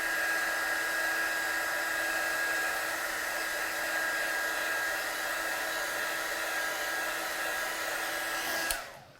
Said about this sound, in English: So I'm just going to dry this off.